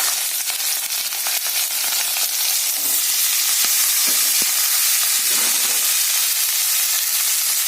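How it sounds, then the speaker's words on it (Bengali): Mixed vegetables (carrot, flat beans, capsicum, peas, beans) fry in hot oil in a pan (kadai), giving a loud, steady sizzle and hiss that holds throughout, with a few soft stirring knocks. "আর আমি সবজিগুলো তেলে দিয়ে দেবো।"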